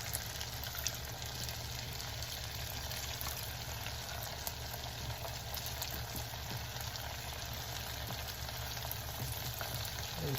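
Potato fries cook four at a time in hot oil, giving a steady, dense sizzle and crackle of bubbling fat that stays even throughout, fairly close, with no talking.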